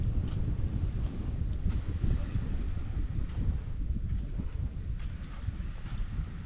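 Steady wind buffets the microphone with a low, continuous rumble and gusty roar, no other clear sounds.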